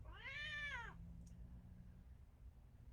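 A pet cat named Moto gives one clear, fairly loud meow lasting about a second, followed by quiet room tone.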